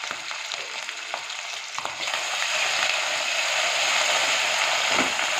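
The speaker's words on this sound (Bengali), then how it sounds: "আদা রসুনটা ভাজা ভাজা হয়ে গেছে" Ginger and garlic sizzle in oil in a pan for a mutton curry, starting with soft crackles and a stirring clink, then swelling into a steady, louder frying hiss close by.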